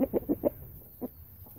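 A chicken clucks in a quick run of four sharp calls, then gives one more cluck after a pause, close and fairly clear against a quiet background.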